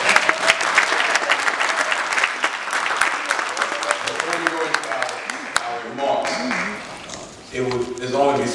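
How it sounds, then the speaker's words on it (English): A church audience applauds young performers after a youth Christmas play, dense clapping that fades midway as other sounds, including voices, come through toward the end. "Let's give our young people a round of applause."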